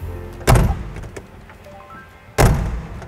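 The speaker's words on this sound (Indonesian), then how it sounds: "Coba kita akan tutup si pintu bunuh diri ini." A rear-hinged suicide door of a 1952 Mercedes W187 220 classic car slams shut twice, each a loud, solid thunk with a short rattle, separated by a quiet pause.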